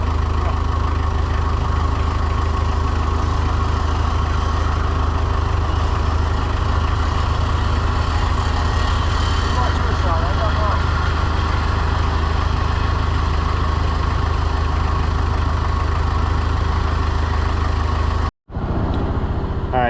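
A Polaris Ranger side-by-side 4x4 idles steadily and close by, a continuous low rumbling engine drone that holds for most of the clip before cutting off abruptly near the end.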